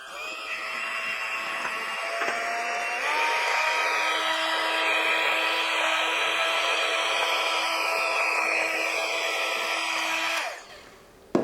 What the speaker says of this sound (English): you can use a hand mixer to mix everything together.